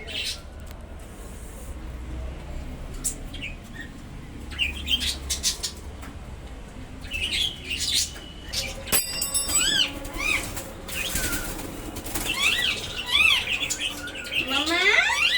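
A rescued bulbul chirps and squawks in short, bright bursts that grow busier and louder toward the end, close by over a quiet outdoor background with a flutter of wings.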